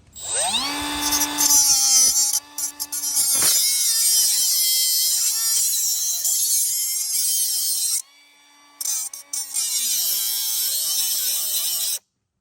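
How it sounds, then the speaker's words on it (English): A small Milwaukee cutoff wheel cuts at a broken battery terminal on a 7.3 diesel, a loud, steady high-pitched whine that spins up, dips under load and runs close and continuous for about twelve seconds with two short breaks. "I'm going to use this small little Milwaukee cutoff wheel. And I'll just get in there and here we go."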